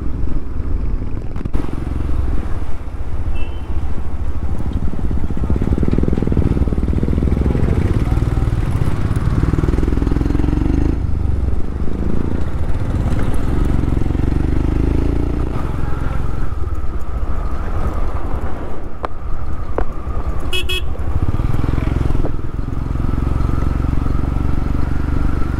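A long line of motorcycles rumbles along a rough off-road track on a charity ride to a remote school, loud and continuous with engines close by and shifting intensity.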